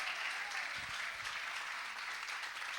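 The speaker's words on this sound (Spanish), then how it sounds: "Dele fuerte esas palmas al Cristo de la gloria." Church congregation applauding steadily for a few seconds, a continuous wash of many hands clapping together with a low thump or two beneath, no voices standing out.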